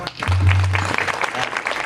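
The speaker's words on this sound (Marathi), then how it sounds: "म्हणून त्याही विद्यार्थ्यांकरता एकदा टाळ्या वाजवा" Applause for students at a kirtan gathering, a brief burst of clapping from the audience with a low hum underneath, fairly loud and fading slightly toward the end.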